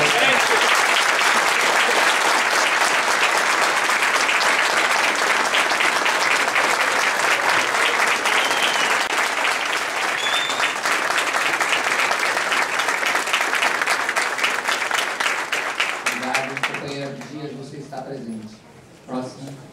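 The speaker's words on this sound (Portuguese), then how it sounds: "Eu proponho um aplauso nosso ao Abdias nessa passagem." Audience at a public forum applauds in a long, loud, steady round of dense clapping that gradually thins out and stops, followed by a voice beginning to speak.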